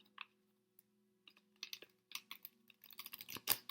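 Tarot cards being shuffled by hand, with scattered soft flapping and riffling bursts that grow denser and louder toward the end, close and quiet, with no talking.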